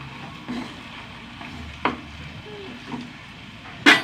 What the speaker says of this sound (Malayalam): നന്നായി ഇളക്കുക